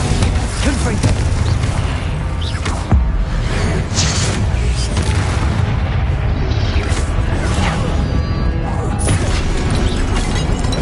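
Confringo fire spell blasting in Hogwarts Legacy combat, a loud, dense barrage of explosive booms with mechanical clanks and sharp bursts throughout, mixed with speech.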